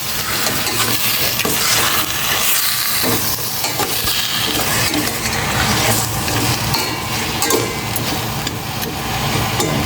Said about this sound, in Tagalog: Gisa ko muna ng maigi.